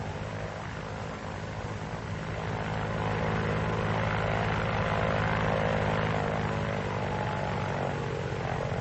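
Vought F4U Corsair radial piston engine drones steadily and loudly throughout, a continuous propeller roar with a deep throbbing hum that swells slightly after the opening seconds, with no talking.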